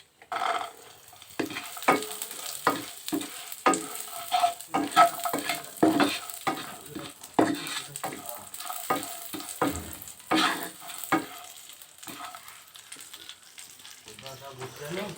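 Raisins frying over a low flame for Basanti pulao, with a soft ongoing sizzle and frequent close scraping strokes of a spatula stirring the pan.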